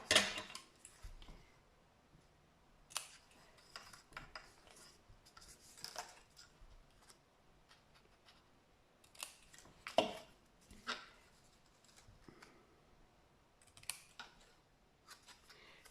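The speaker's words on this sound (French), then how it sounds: "on va couper le biais." Scissors cutting a fabric bias strip, heard as faint, scattered snips and clicks spread irregularly across a quiet room, with small handling taps between cuts.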